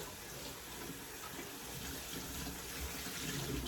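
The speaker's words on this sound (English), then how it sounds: "I'm going to give it a good rinse real quick here." Tap water runs steadily over hand-dyed cross stitch fabric during a quick rinse, a continuous soft hiss and splash at low level with no voices.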